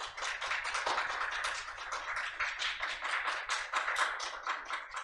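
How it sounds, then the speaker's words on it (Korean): Audience applause at an academic society's anniversary opening ceremony, a steady stream of many hands clapping at moderate volume for several seconds, with no talk over it. "많은 박수 부탁드리겠습니다"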